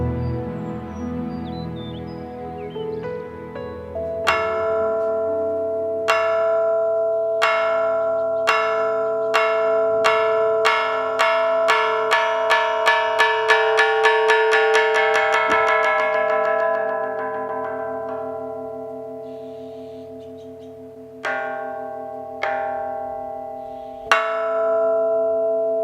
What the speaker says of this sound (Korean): 저녁 예불을 알리는 종소리가 바깥 세상 곳곳에 번져갑니다.